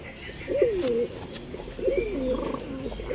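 A male Chandakhani pigeon, kept as a hobby bird, gives two clear rolling coo phrases close by, with a short pause between them and no voices.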